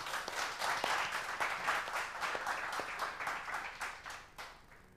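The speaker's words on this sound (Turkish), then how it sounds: "alkışlarla alıyoruz" Audience applause greets a singer as he takes the stage at a Kanal Ordu TV studio show, a steady wash of many clapping hands with scattered sharper claps, fading slightly toward the end.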